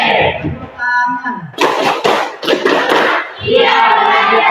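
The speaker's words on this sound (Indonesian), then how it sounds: "Tepuk tangan." Students in a classroom in Takengon, Aceh, clap their hands together in a short burst of brisk clapping between stretches of a teacher's speech, with voices talking before and after.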